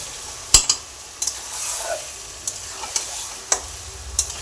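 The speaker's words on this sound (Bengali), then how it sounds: "এটাকে ভালো করে কষিয়ে তারপর রান্না করব" Chicken fries in a hot wok while a utensil stirs and scrapes it, with a soft sizzle underneath and several sharp metallic knocks spaced irregularly, close up and without talk.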